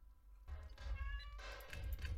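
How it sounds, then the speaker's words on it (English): A house cat meows quietly in the background of a home gaming session, a faint, short call rising over low room noise with no talking. "My cat says hi, by the way."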